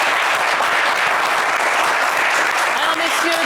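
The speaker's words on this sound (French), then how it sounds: "qu'on va applaudir également" Loud, unbroken applause from a television game show studio audience greets the second team, an even wall of clapping with faint voices audible beneath it.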